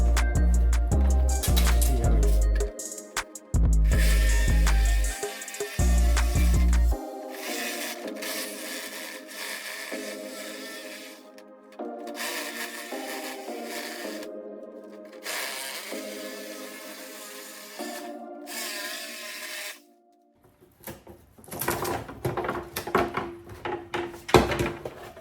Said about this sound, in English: Believe it or not, this is the first time I've ever used a jigsaw,